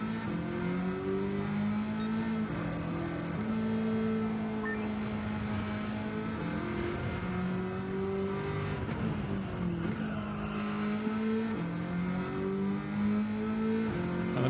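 A race car's engine in Gran Turismo 7 holds a steady, loud drone through a hot lap, its pitch rising and falling with repeated upshifts and downshifts, with no talking over it.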